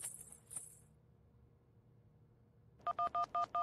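Telephone keypad dialing tones: four crisp, evenly spaced beeps ring out near the end after a stretch of quiet room noise, with a faint high chirp at the start.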